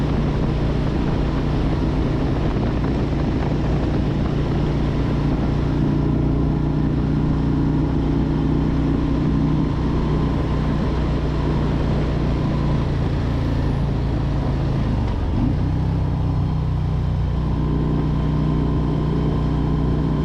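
A 2021 Harley-Davidson Road Glide Limited rumbles along on a test ride, its low V-twin engine droning steadily under heavy wind noise, with a brief dip in revs near the middle before it pulls on.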